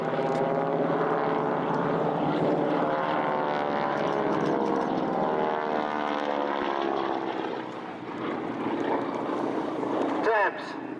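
A propeller-driven display aircraft at the Old Buckenham air show drones loudly and steadily with a rich harmonic hum, easing slightly and wavering as it passes, with speech faintly under the engine.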